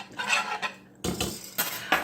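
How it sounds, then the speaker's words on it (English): A utensil stirs almond flour in a wooden bowl with a few quick scraping and clinking bursts, close and fairly quiet, and short pauses between them. "Just give it a little stir."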